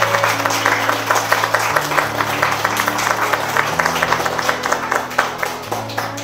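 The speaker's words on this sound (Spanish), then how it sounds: "yo quiero que le brindemos un fuerte aplauso a ellos, por favor" Applause from schoolchildren and parents at Escuela la Colina in Quetzaltenango, a steady dense clatter of many hands lasting several seconds, with sustained music tones running beneath.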